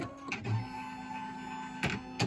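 A Brother embroidery machine's arm shifts to reconfigure itself, giving a steady mechanical whir with a few short clicks and knocks at the start and end.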